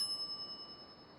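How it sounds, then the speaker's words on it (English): A shop counter bell rung once in The Secret of Monkey Island, a single clear ding fading out with a gentle ringing tail, alone and fairly quiet. "Step away from the counter for 2 seconds, and some idiot's already ringing that stupid bell."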